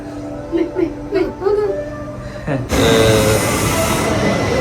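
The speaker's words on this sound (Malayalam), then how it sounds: "ട്രെയിൻ കണ്ടില്ലേ" A train passes at a railway station: voices talk at first, then a loud, close, broadband rumble and rush of wagons abruptly swells and keeps roaring steadily.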